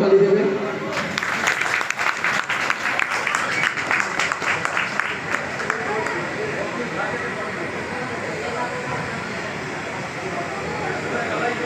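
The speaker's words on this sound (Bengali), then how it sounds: "সবাই জোরে করতালি দেবে।" An audience at a large community blood donation festival in a Sonarpur ward bursts into loud applause that swells for a few seconds and then fades under a lingering crowd murmur, with a voice speaking over it.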